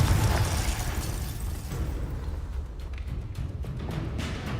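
In the Hogwarts Legacy video game, a Confringo fire spell explodes with a heavy, booming burst, and the blast fades into a rumbling, crackling tail. It is loud and close, with no clear speech over it.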